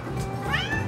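A Siamese cat meows once in a drawn-out, rising and falling call, close and fairly clear over a steady low background hum.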